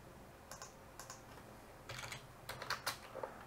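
Code is typed on a computer keyboard for an Arduino sketch, with short close bursts of key clicks in quick, uneven runs, alone.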